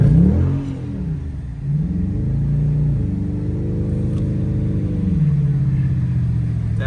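Dodge Charger engine revving hard during a snowstorm, a loud deep roar that swells and falls through several rising and falling pulls, staying close and continuous to the end.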